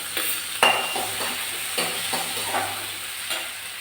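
Onion, green chilli and tomato sautéing in a pan with mustard seeds, a steady sizzle broken by several sharp scraping stirs at irregular intervals, close and moderately loud with no talking.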